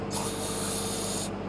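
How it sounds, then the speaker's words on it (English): Cleaner sprayed into a fitting on a Mercury 450 Racing V-8 boat engine, a single steady close hiss lasting over a second before cutting off. "I just spray it all the way inside the fitting like so"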